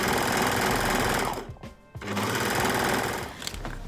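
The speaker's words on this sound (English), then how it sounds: "I've sewn the skirt on with one pocket" A sewing machine stitches a skirt at speed, a loud close continuous whir that dips briefly to a pause before running on again.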